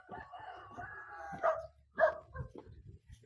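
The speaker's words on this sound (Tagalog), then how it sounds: "Nandyan ang mga aso." Several dogs barking at a rural farm in the Philippines during a morning walk: a few separate bursts of barking at moderate distance, with quiet gaps between them.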